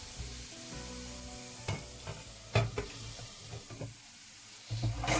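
Carrots fry in a pan with a steady close sizzle, broken by a few sharp stirring scrapes and clacks of a utensil. Soft tonal background music plays underneath.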